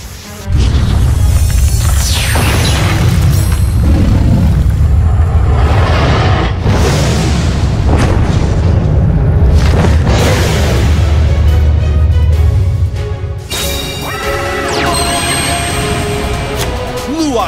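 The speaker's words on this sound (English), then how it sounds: "Come on out, Blue Eyes Alternative White Dragon!" Summoning effects for Blue-Eyes Alternative White Dragon in Yu-Gi-Oh! Duel Links: loud booming blasts and sweeping whooshes build into a dense, roaring swell before easing off, with a voice briefly speaking.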